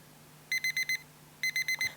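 A digital alarm clock in a visual novel game beeps in two quick bursts of four high electronic tones, crisp and close over a faint hum.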